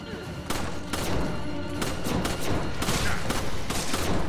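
Handgun shots ring out in Resident Evil 5, a rapid run of loud game gunfire and thuds under a player's excited voice.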